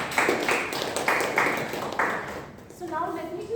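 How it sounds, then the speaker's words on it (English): A meeting audience gives a round of applause, a bright spatter of clapping rising in a few waves before fading out as a voice starts talking at the end. "I think we need to give a round of applause"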